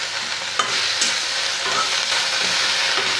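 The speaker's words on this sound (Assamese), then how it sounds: "1 মিনিটমান সময় এনেকৈ ভাজি ল'ম" Chopped malabar spinach fries in a pan over a raised gas flame, giving a steady, loud, close sizzle with occasional stirring scrapes and no talking.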